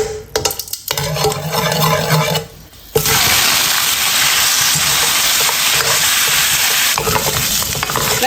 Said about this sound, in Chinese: 锅里少来点油，炒个糖色。